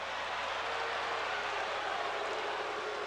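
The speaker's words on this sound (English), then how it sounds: "Crowd reacting to behind the play." Hockey crowd at a Soviet Union versus USA game at the 1990 Goodwill Games gives off a steady, broadband arena murmur, distant and even throughout with no distinct cheers rising above it.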